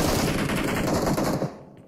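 Dense, continuous automatic gunfire from the mobile battle royale game BGMI, loud and rapid for about a second and a half before cutting off abruptly.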